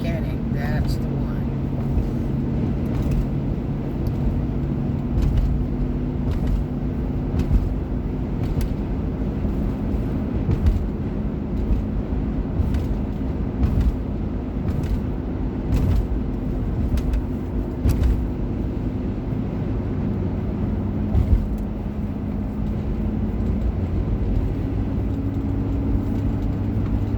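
A car drives along a road toward Shalimar, its steady low engine and road rumble heard from inside and continuing throughout, with a murmur of voices underneath.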